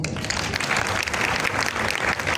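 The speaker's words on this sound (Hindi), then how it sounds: "तो भाई फसी के लिए तालियां हो जाए" Applause for Fasi from a group during a session about MCP servers: dense, continuous clapping that stays at an even level throughout, with no voices on top.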